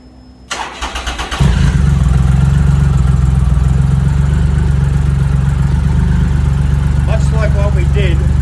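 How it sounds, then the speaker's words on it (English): A Triumph Rocket III motorcycle, its ECU freshly reprogrammed, cranks briefly with a whirring starter, fires up and settles into a loud, steady, deep idle, with a brief voice near the end. "So now we're going to start the bike."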